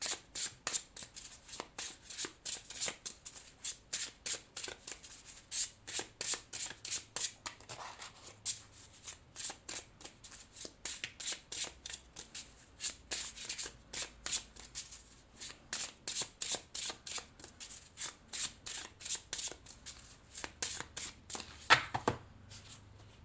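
A Pocket Oracle deck of oracle cards is shuffled by hand, producing soft, quick, repeated riffling bursts in a steady rhythm, close and fairly quiet, with brief pauses between shuffles.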